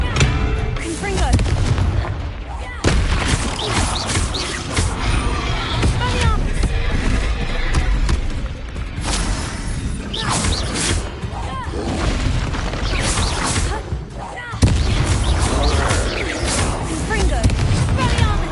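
Confringo spell explosions from the video game Hogwarts Legacy go off as loud, repeated booms and blasts in quick succession, with a few short pauses between bursts and a voice talking underneath.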